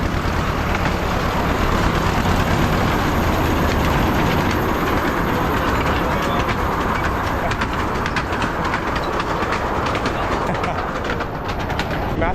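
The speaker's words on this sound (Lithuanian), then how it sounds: "Čia traukinukas va važiuoja." A small passenger train rolls past in Mumbai with a continuous loud rumble and rattle, while birds and pigeons call throughout.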